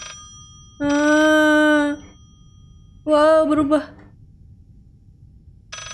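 In the horror video game Layers of Fear, a telephone gives two separate electronic rings, each about a second long, with quiet between them. A voice speaks briefly afterward.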